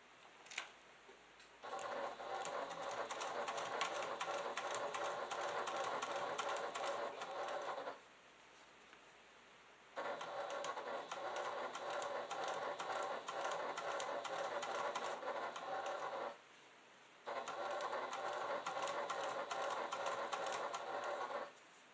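A sewing machine stitches slowly through a bulky quilted leather clutch in three long, steady bursts of rapid needle ticking, with brief quiet pauses between runs and no talking.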